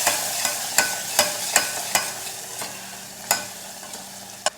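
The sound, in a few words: stirring spice mixture in a frying pan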